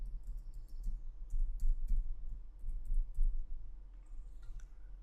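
A password is typed on a computer keyboard, heard as bursts of light, close key clicks in an irregular rhythm over a faint low hum.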